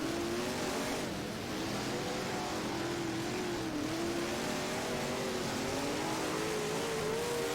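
A big-block dirt-track race car in the rFactor racing game drones at high revs, its engine note rising and dipping steadily and continuously with no pauses.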